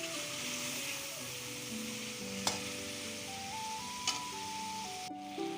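Chicken fries in a pan for a biryani, its even sizzle running throughout, with a couple of brief sharp stirring clinks, all beneath a light melodic background tune.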